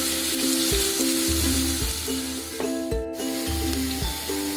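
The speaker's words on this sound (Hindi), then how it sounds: "जिंजर को इसमें 2 से 3 मिनट हम इसको सॉटे कर लेते हैं।" Ginger sautés in a hot pan with a steady sizzle and frying crackle, overlaid by repeated scraping and stirring strokes of a utensil against the pan.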